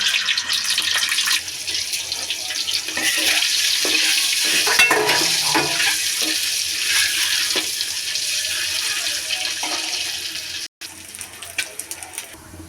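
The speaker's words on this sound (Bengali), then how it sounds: "এখন আমি ডিমগুলো ভেজে নেব" Eggs frying in a pan with chopped onion and turmeric give a continuous close sizzle, with occasional stirring scrapes and clinks over the steady hiss, broken by a brief gap near the end.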